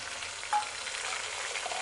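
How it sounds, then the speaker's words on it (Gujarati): Chopped tomatoes hit hot oil in a kadai, giving a soft, steady sizzle with a faint stir at the start; fairly quiet and close, with no talking. "તો ટમેટા સમારીને રાખેલા છે એ કડાઈમાં ઉમેરી દઈશું."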